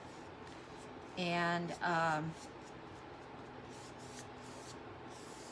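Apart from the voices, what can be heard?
spraying wood with water before painting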